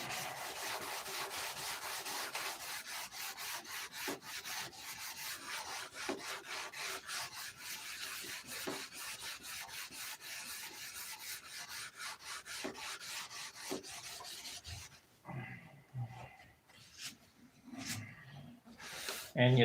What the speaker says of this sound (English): And you thought the sanding was over.